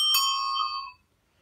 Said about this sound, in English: you've got a two-tone bell or ding-dong bell